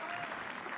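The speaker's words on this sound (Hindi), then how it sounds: "एक बार तालियां शिव प्रेम रॉय के लिए" Brief, steady applause from a comedy roast audience, a dense patter of hands at moderate distance without clear breaks.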